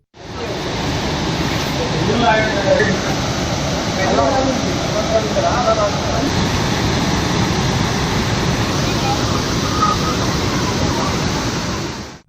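Water rushes down from the hills over a waterfall swollen by heavy Telangana rains, a dense, loud, continuous roar throughout with faint voices mixed in.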